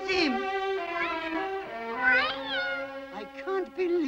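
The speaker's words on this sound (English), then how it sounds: "I can't believe I would ever miss that fool cat." A cartoon cat meows in a long, wavering, pitch-sliding cry with a few shorter mewls near the end, loud and close, alone without talk.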